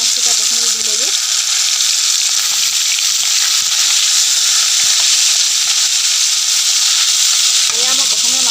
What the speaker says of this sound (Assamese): এয়া মই প্ৰথমে মাগুৰ মাছকেইটাকে ভাজি লৈছোঁ।